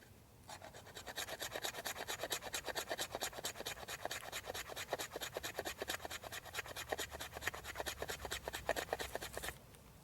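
Pine fatwood rich in resin is shaved into a pile with fast, even rasping strokes that repeat steadily for about nine seconds, close but quiet and with no voices.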